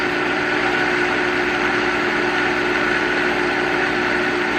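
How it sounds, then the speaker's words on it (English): A blender grinds oats into coarse flour, a loud, steady motorized whir with a rough grinding edge that runs unbroken and close throughout, with no talking. "So I'm blending it down because we're making some energy balls."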